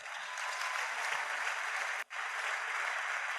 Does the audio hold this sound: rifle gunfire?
no